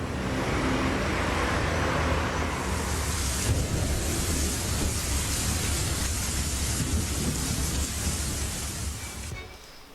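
Broadband city street ambience with a bus, a steady wash of traffic rumble and roar close and loud throughout, easing slightly at the very end.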